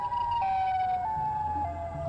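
Siren wailing in a Siren Head horror video game set in a swamp, a loud, steady tone stepping between two pitches in a slow see-saw, with a low rumble beneath and no talk.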